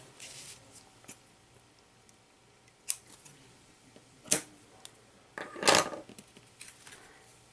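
Scissors trim paper for handmade cards in a few quiet, separate snips, with one longer cut near the end against a soft room background.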